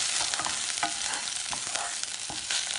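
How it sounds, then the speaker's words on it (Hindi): Coriander, chili and turmeric powder frying with ginger-garlic paste while being stirred in a pan for a raw papaya kofta curry, giving a steady close sizzle with scraping stir strokes and no talk. "थोड़ी देर इसे हम फ्राई करेंगे"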